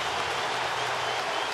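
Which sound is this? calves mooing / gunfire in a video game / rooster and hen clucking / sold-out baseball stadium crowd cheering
sold-out baseball stadium crowd cheering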